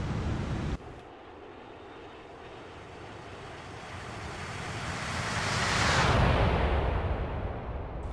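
Jet engines of an Airbus A350 XWB in a flight simulator game roar steadily, swelling to a louder broadband rush midway and then easing slightly, with no voices.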